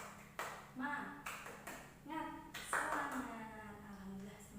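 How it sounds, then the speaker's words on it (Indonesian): Students in a classroom do a rhythmic 'tepuk semangat' clapping chant, short bursts of claps in a set pattern alternating with sung or spoken chant voices, fairly quiet and roomy. "kita tepuk semangat ya"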